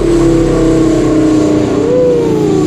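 Manual V8 car with about 860 wheel horsepower revving steadily up close, a loud continuous engine drone whose pitch climbs briefly near the end.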